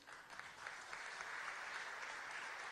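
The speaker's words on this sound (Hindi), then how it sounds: "तालियों से स्वागत करिए, अभिनंदन करिए यूपीएससी में उत्तीर्ण सभी छात्रों का" Sustained applause welcoming students who passed the UPSC exam, steady and dense for the whole stretch at a live public event in Madhya Pradesh, with no voices over it.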